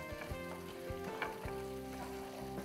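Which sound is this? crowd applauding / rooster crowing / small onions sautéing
small onions sautéing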